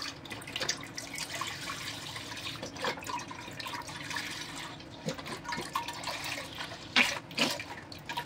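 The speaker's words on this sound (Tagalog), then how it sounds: "Yan, ang ating soybean milk. Yan po, ilalagay na natin." Soybean milk pours into a cooking pot for a bean curd dessert, a close liquid splashing and trickling with uneven surges and small clinks.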